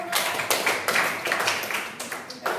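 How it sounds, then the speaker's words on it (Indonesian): Students in a classroom give a short burst of applause, a small group of hands clapping close by in uneven, sharp claps for a few seconds. "Kasih tepuk tangan dulu."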